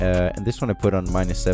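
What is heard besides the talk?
No everyday noises stand out.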